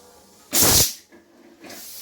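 Pressure cooker holding dal lets out a sharp, loud burst of hissing steam for about half a second, then fades, followed by a softer, longer hiss trailing off nearby.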